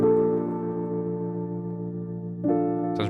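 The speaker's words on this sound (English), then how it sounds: "So we got this electric piano and this pad right here." Sustained electric piano chord layered with a soft synth pad, a warm held tone that shifts to a new chord near the end, steady and moderately loud with no voices.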